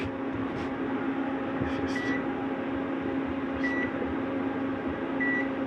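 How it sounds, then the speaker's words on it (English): A microwave oven runs inside a 2020 R-Pod 189 travel trailer, giving a steady close hum with a few soft beeps over the top, and no talk. "You see a microwave running."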